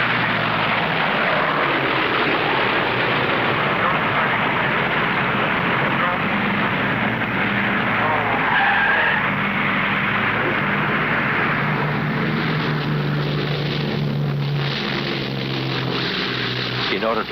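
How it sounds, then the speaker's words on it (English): A World War II B-17 bomber landing on a single wheel, its piston engines a steady, loud, close roar that builds and shifts in pitch throughout, with talk running beneath it. "That's a B-17 coming in on a wheel and a prayer."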